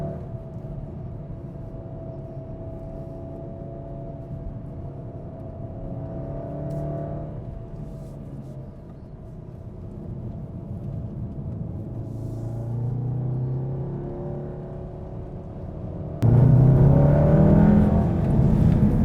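A 2015 Volkswagen Golf R accelerates hard through tight corners, its engine note rising and falling in steady revving pulls, heard from inside with a louder surge near the end.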